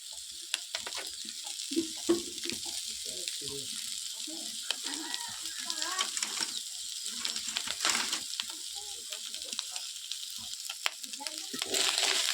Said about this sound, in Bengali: মাছ ভাজা আমাদের রেডি, চড়চড় চড়চড় করছে।